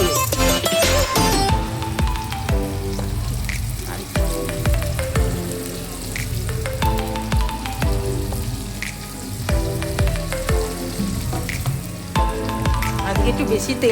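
Onion, tomato, salt and turmeric frying in oil in a pan for a mutton curry, a dense crackling sizzle with utensil clinks, close and loud, music playing over it.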